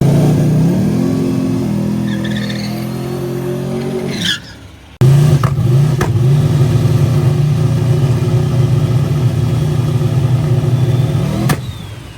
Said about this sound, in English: In the burnout, the car shut off a couple times, and then coming up on the line, it came up on the brake